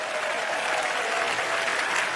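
Steady, full applause from a live audience at a TED talk as a guest is welcomed to the stage, an even wash of clapping with no break.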